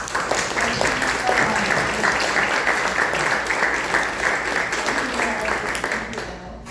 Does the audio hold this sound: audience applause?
yes